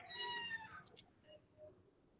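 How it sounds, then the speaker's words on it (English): A cat meows out on a residential street, a loud drawn-out call near the start followed by a couple of fainter, shorter meows. "Does someone have a cat?"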